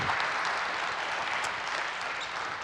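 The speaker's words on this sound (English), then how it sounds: "let's give them a round of applause" Dense audience applause at a design and product leadership talk, even and sustained throughout at moderate level, with no voices over it.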